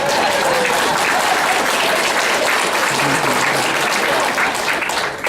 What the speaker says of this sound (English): They're clapping for you because you did such a good job.